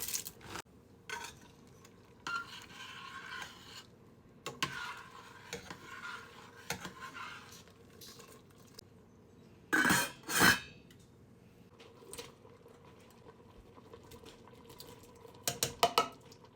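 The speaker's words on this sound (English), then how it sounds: "I'm going to give this a stir." A spoon stirs a pot of noodles and carrots in a home kitchen, soft scraping and clinks with a couple of louder clatters, mostly quiet between.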